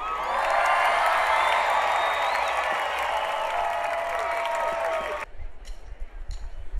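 A crowd welcomes a band with loud, dense applause, cheers and whoops, a sustained roar of clapping and shouting that cuts off abruptly near the end, leaving faint scattered sounds.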